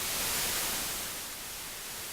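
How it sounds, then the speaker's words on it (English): Steady broadband hiss of white noise, loud and continuous, bright in the high end, with no other sounds. "Now if we go over to white noise,"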